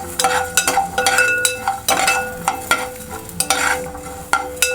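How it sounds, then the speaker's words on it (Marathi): Ginger and garlic heat with coriander seeds in a pan, sizzling steadily as a utensil stirs and scrapes, sending repeated sharp clinks against the metal up close. "आलं लसूण घालूया त्याच्यामध्ये हे पण थोडं गरम करून घेऊया"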